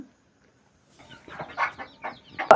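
Farm chickens kept alongside ducks cluck in a short, irregular burst of several calls at close range, following a moment of near silence.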